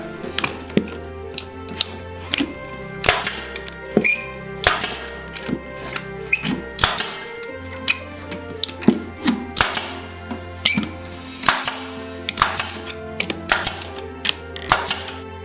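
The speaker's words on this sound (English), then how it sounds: "I'm going to staple along with the grain of the wood, and I'm going to put 2 staples in each board" A staple gun drives staples into wooden support boards for a farm-style Christmas tree box stand, with sharp clacking hits firing in irregular clusters throughout, close and fairly loud over a soft background.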